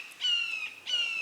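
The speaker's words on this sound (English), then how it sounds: "Friggin' loud bird." A loud bird squawks twice outdoors, each call a harsh, drawn-out cry.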